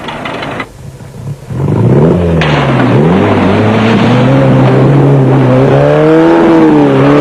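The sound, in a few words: Class C off-road race car engine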